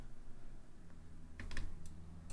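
Keystrokes on a computer keyboard during a Blender starfield tutorial, a short cluster of a few quick clicks near the end over quiet room noise, with no talking.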